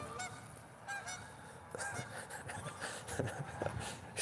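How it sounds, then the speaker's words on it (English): Canada geese on a morning walk honk repeatedly in a busy, overlapping chorus, moderately close and somewhat faint, with irregular calls from several birds throughout. "We're rolling up on these Canadian geese though."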